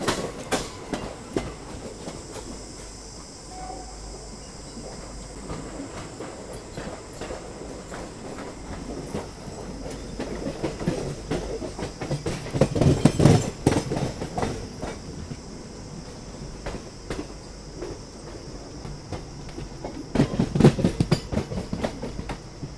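An ICF train coach on the Jhansi–Pune special rolls along the track with a continuous rumble and rhythmic clickety-clack, the clatter swelling louder in bursts near the end.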